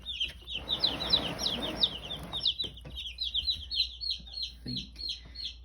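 Cornish cross meat chickens and Easter egger chickens cluck and chirp in a steady stream of short, close calls, with a burst of rustling movement early on.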